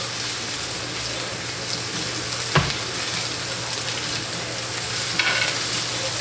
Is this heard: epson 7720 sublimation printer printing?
no